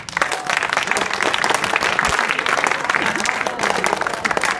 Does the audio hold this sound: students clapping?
yes